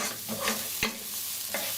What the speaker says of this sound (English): we're going to give it a nice stir.